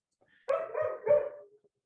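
A puppy lets out a sharp bark followed by a couple of quick, yappy follow-up barks, close and loud in a quiet room with no talking.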